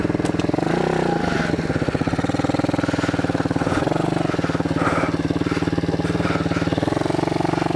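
A pit bike's small single-cylinder motorcycle engine runs steadily and loudly up close, a continuous buzzing drone with slight rises in revs throughout.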